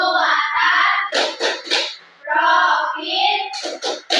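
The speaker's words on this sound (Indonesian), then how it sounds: "Ayo kita tepuk P5." A class of schoolchildren performs the Tepuk P5 chant, with rhythmic group voices alternating with sharp bursts of unison clapping in short measured patterns, loud and close.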